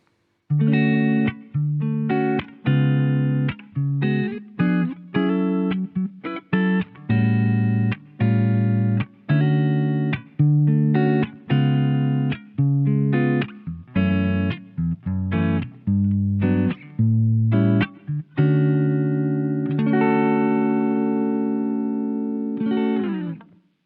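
Processed electric guitar strums a series of chords, each struck and briefly held with short gaps, ending on a long sustained ringing chord.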